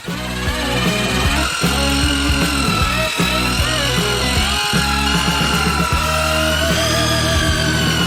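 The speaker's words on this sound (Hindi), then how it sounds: "इसे अच्छी तरह से मिलाने के लिए हम इस तरह के कंस्ट्रक्शन मिक्सर का उपयोग करेंगे।" A powerful construction mixer whirs loudly and steadily, its motor pitch wavering slightly with brief dips as it churns thick batter for giant fried chicken.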